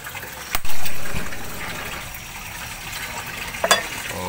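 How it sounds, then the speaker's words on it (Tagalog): Water is poured into a cooking pot for fish paksiw made with hiwas fish, starting with a sudden gush and then running on as a softer, fading flow, with a small clatter near the end. "Lagyan na natin ng tubig."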